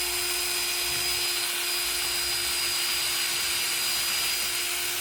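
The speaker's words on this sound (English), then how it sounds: "you got to drill another hole" Power drill boring a hole for a homemade lamp, a steady high whine held constantly and loudly throughout, with no talking.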